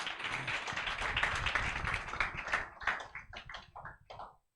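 A church congregation at a Sunday service claps together in a dense burst of applause that thins into a few scattered, separate claps before stopping.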